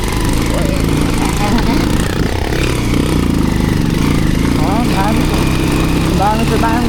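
A motorcycle engine running hot hums continuously on the move, a steady mid-low drone with slight fluctuations, while a voice talks faintly over it.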